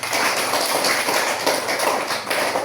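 Classroom clapping for a student in a school lesson, a fast, dense patter of many hands close by, steady and even for a few seconds.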